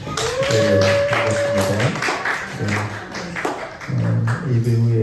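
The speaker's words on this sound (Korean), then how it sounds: "우리 박수로 우리 환영하겠습니다" Church congregation clapping to welcome children during a service, a few seconds of light scattered applause mixed with a speaking voice and background tones, moderately near and not very loud.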